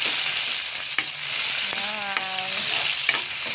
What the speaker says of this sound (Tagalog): Pwede na natin ilagay ang ating bawang. Yan. Okay hanggang mag-brown.